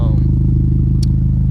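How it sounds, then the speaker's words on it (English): A Hyundai Genesis Coupe fitted with an ISR catback exhaust idles close by, a loud, steady low-pitched burble with an even rhythmic pulse and a brief click partway through. "I'd say third mod on this list is gonna be the ISR catback exhaust"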